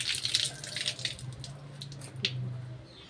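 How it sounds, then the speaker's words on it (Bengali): A running tap splashes water while lemon leaves are washed by hand in a sink, a steady close stream with intermittent splashes and drips, no talking. "আমার লেবু পাতাটা ভালো করে ধুয়ে নিলাম"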